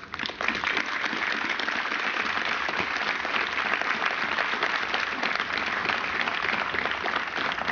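A large audience applauds continuously after a state police special operations team demonstration, dense clapping filling the room at a steady, loud level throughout.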